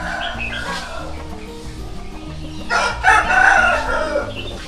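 A rooster crows loudly around the middle of the clip on a farm at the start of the rainy season, rising over a steady background hum and low rhythmic noise.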